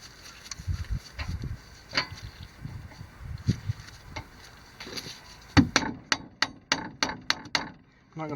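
Rubber mallet striking a brake part on a Nissan Versa during a brake job, a series of about seven firm thuds in quick succession, preceded by quieter workshop knocks and handling noises.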